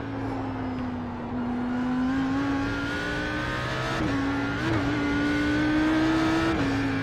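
An Audi R8 GT3 at Bathurst in a racing video game holds a steady, loud engine drone that climbs through rising revs and dips at gear changes, continuous and close with no voices.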